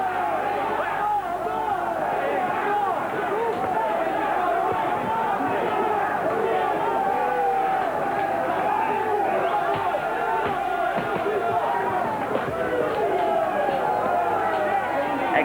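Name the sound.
boxing crowd cheering for Sanavia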